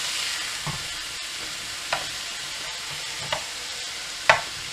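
Mince frying in a pan for chilli gives a steady low sizzle, broken by a few separate scrapes and clacks as a spoon lifts and turns the meat. No talking.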